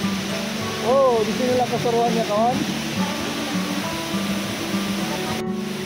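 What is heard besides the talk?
waterfall with tea-coloured water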